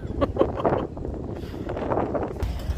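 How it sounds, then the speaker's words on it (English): Wind blowing at a seaside royal harbour in Ramsgate, buffeting the microphone with a continuous rumbling gust that swells and eases, with faint rustling and clatter in the background. "I wish the wind would decide to go blow somewhere else."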